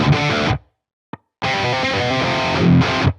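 A distorted electric guitar played through an STL Tones Lasse Lammert Tonality amp plugin with reverb rings out in loud, thick chords, cuts to silence with one brief hit, then returns for a sustained passage.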